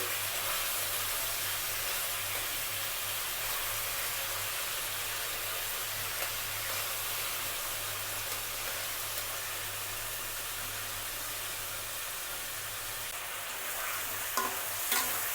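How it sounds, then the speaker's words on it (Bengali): Chicken pieces fry in hot oil for a chicken and potato curry, giving a steady, close sizzle with a faint hiss and occasional light stirring clinks near the end, no voices. "এই তো আমি মুরগির মাংসগুলো আগে ভেজে নিচ্ছি"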